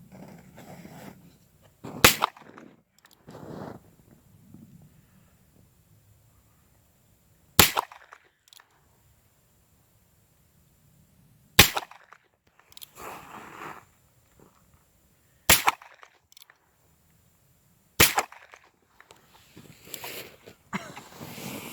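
Pistol fired on an outdoor range, five sharp isolated shots spaced a few seconds apart, loud and close, with quiet talk and movement between them.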